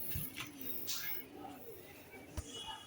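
Budapest racer pigeons give soft, low cooing calls in a few short bursts. They sound close but faint, with a light background hiss.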